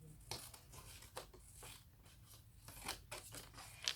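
Safety scissors snip through smooth paper in a series of short irregular cuts and rustles, close and fairly quiet.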